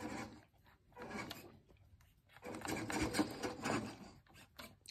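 A custom WPL D42 RC truck at full speed doing wheelies indoors on carpet, its small electric motor whining in bursts that surge and drop as it rears up and lands.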